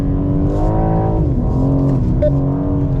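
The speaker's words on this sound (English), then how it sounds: "Waiting for the yellow cones and then be rolling into that gas, accelerating down the straightaway." A BMW G80 M3 accelerates hard on a factory race track, its engine roaring loud and close, pitch rising and falling through gear changes for about three seconds.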